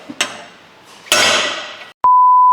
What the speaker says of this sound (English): Let's grab a hammer and let's start smashing.